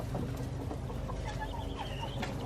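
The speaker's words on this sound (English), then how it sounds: "We've got the big chicken here." A big chicken on a farm clucks in soft, rapid bursts close by, with a steady low background rumble throughout.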